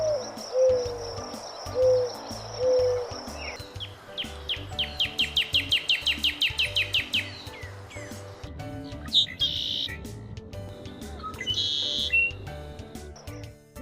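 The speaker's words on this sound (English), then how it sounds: "Birds chirp to communicate and sing their beautiful songs." A bird chirps and sings in a varied sequence: soft hoot-like notes, then a rapid, even trill of bright chirps, followed by scattered sharp, high calls. No talking is heard.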